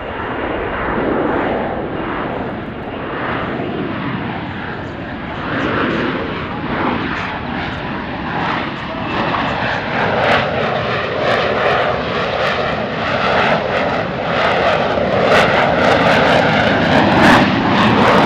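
A USMC AV-8B Harrier jump jet hovers at a military airshow, its engine a loud, sustained roar that slowly swells and wavers for the whole stretch.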